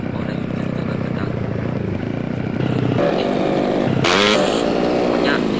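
Motorcycle engine in the game GTA, a loud, steady revving drone that holds throughout and swells sharply about two-thirds through as the throttle opens.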